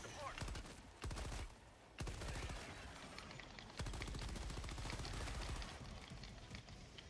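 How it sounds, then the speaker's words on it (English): A cluster bomb strike in the Helldivers 2 video game sets off a dense, rapid string of explosions that rattle almost continuously in loud, crackling bursts with brief gaps, while players' voices are faintly mixed in. "Cluster bomb coming in."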